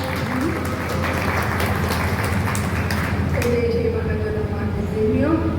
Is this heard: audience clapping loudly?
yes